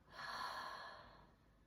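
One slow, deep breath rises and then fades over a little more than a second, soft and close-miked, as in a calm guided relaxation exercise. No words are spoken.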